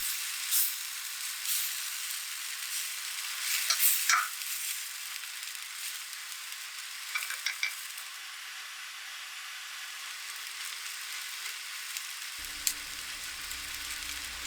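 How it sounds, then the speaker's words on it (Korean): Milk-based cream sauce bubbling in a pan with a handful of shrimp and a pinch of nutmeg for cream pasta: a steady, soft sizzling hiss throughout, broken by a few brief clinks and stirring sounds, with no voices. "크림 소스가 끓어오르면 새우 한 줌과"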